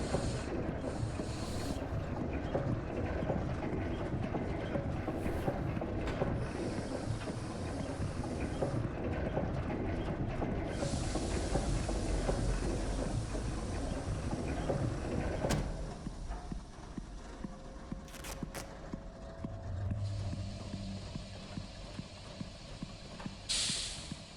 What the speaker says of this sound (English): It's some kind of steam engine. It's so loud.